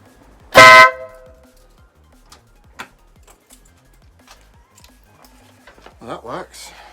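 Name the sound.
car horn being tested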